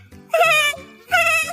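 A person's voice imitates a goat bleating, giving two wavering, nasal bleats close up with a short pause between them and no other sounds.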